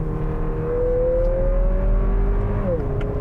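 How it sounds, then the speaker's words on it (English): Turbocharged engine of a 2022 Lexus NX 350 F-Sport with augmented engine sound, accelerating steadily: a smooth rising hum that climbs in pitch, then dips briefly as it upshifts, heard from inside the cabin. "Now, the engine sound for this motor is definitely augmented."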